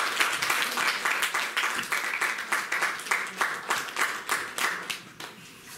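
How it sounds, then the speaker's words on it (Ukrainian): A school audience applauding at a culture workers' day event, with dense clapping from many hands that gradually thins and fades out toward the end. "Під ваші бурхливі оплески запрошується член Національної спілки письменників України Володимир Володимирович Теплов."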